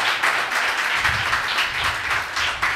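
A church congregation claps together in a steady, rhythmic wash of applause, loud and continuous throughout, with no voices heard.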